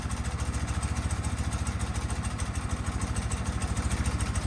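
An old motorcycle engine that sat unused for over twenty years, idling smoothly after an idle screw adjustment, a close, even, rapid putter with a steady mechanical clatter.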